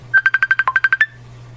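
A bright video call ringtone chirps in a quick run of about eleven even beeps, loud and close, then stops, leaving a low steady hum.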